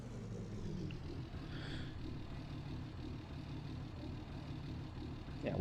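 A vehicle engine from the video game Farming Simulator 22 hums as a low, steady rumble while driving, fairly quiet and unchanging, with a sharper noise rising right at the end.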